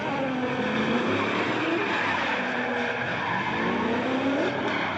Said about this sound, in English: I hear him on and off throttle, surging back and forth, diving in, letting off, diving in.